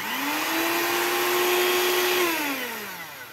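An electric mixer runs at maximum speed with a loud, steady high whine that holds its pitch and then winds down toward the end, heard close and alone. The mixer is showing signs of wear and about to fail.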